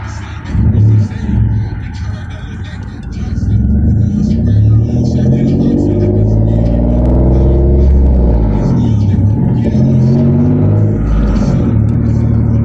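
A loud, deep turbocharged 3.8 Genesis Coupe engine on an Alphaspeed street tune pulls hard through 3rd gear, rumbling and rising in pitch steadily, with voices heard inside the car.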